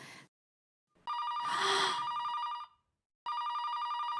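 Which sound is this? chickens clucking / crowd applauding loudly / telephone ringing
telephone ringing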